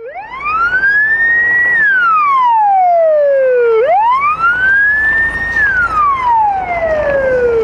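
Wailing emergency vehicle siren at a road accident drill, sweeping slowly up and down in two long loud cycles, close and continuous with no talk.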